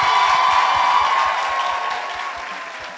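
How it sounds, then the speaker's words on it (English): A crowd applauds a student at a university lecture, with dense clapping and faint cheering that slowly tapers off. "Give her a round of applause."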